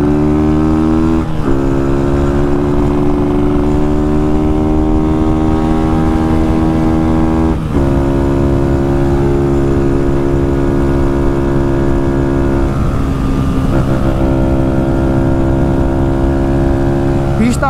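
A modified Honda Fan 160 motorcycle engine running close by, loud and steady with rising and falling revs and several sharp throttle blips, filling the whole stretch.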